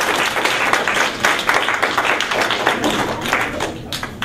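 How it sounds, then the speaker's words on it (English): A crowd claps and applauds steadily, a dense wash of hand claps that continues throughout with no voices standing out. "Give yourselves a round of applause"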